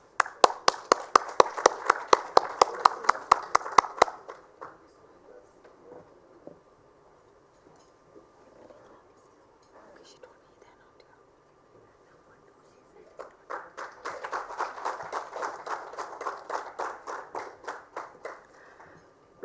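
Two bursts of audience clapping at an awards ceremony for sanitation work in India, loud and steady for several seconds, then a quieter gap with faint murmuring before a second strong round of applause.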